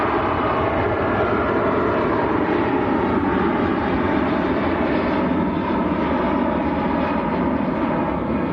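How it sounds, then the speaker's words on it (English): An Emirates airliner bound for Dubai takes off at Manchester Airport, its jet engines roaring loud, broad and steady for the whole stretch with no talk over it. "Here it comes, the beast to the east. Emirates to Dubai."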